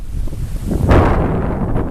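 Steady wind at a beach shore in Riviera Maya buffeting the microphone with a low rumble, swelling briefly in a stronger gust, no voices.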